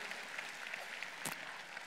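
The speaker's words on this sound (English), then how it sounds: "Give a big hand of applause to my upline, Peter Nate Wongsa." Applause from an audience at a business networking event, a soft continuous patter of clapping heard from a distance, with one sharper burst partway through.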